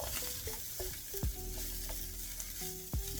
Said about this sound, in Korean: 이렇게 소세지가 이렇게 노릇노릇 맛있게 익어가고 있습니다